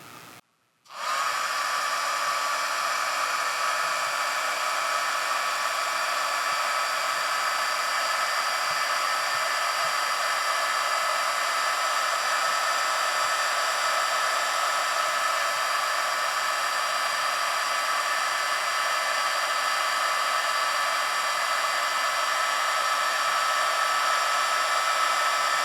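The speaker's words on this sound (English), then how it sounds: "heat gun here. This one will do about 300 watts, which should push us over, so it should be closer to 700 watts" A heat gun rated at about 300 watts, running off a 50Ah LiFePO4 battery, starts abruptly and then blows with a loud, steady, close whooshing hum for the rest of the stretch.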